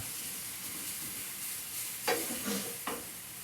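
Rosemary chicken sizzling in a pan, with a steady hiss and a couple of sharp scraping knocks from a wooden spoon stirring near the end, no voices.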